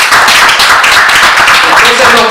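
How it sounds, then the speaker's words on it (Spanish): Congregation applauding during a church service, loud sustained clapping in a reverberant hall with voices mixed in, continuous throughout. "Un aplauso para el Señor."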